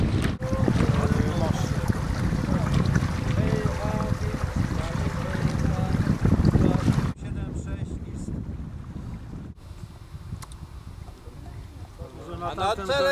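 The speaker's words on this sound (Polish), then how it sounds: "Na czele kolumny kajaków płynie znany polarnik pan Marek Kamiński." A column of kayaks paddles along the Vistula river, with steady wind and water noise throughout and a louder, busier stretch in the first half before it drops to a quieter wash of water.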